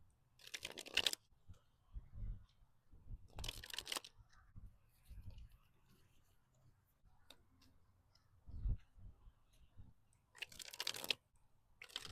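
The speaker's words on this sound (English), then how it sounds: "Let's shuffle your deck" Tarot cards are riffled and shuffled in several short bursts, crisp papery rustles separated by quieter handling sounds and soft thumps.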